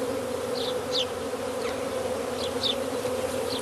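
A swarm of around 10,000 honeybees hums around a straw skep in a shelter, a steady dense drone with a few brief higher whines of single bees passing close.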